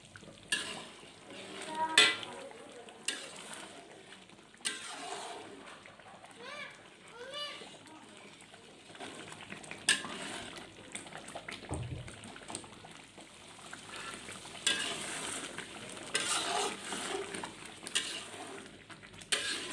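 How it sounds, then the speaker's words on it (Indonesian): Coconut milk for Padang-style rendang is stirred in a pan, with scraping spatula strokes, soft bubbling and occasional metal knocks at close range, while someone talks over it. "Kita tetap aduk sampai benar-benar berminyak dan santannya menyusut ya bun."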